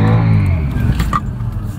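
The driver's own car accelerates on the road, with a steady, loud low engine drone held close throughout and a brief higher tone near the middle.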